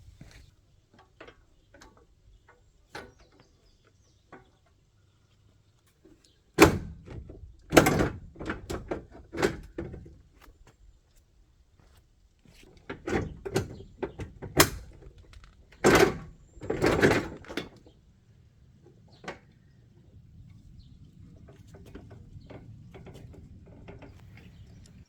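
A front bumper on a Jeep slides forward off its mounting brackets with a series of scattered metallic scrapes, clunks and rattles, loud bursts separated by quiet gaps.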